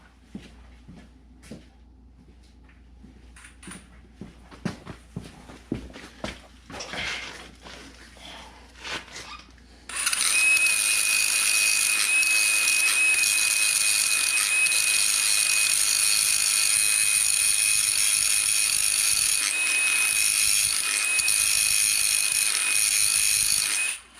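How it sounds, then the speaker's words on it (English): Power grinder working rust off the edges of brake parts on a 2013 Dodge Grand Caravan: scattered knocks and taps at first, then a loud, steady high-pitched grinding whine that holds until the end. "we're actually going to have to grind that out a little bit more"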